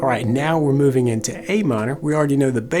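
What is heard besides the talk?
No everyday noises stand out.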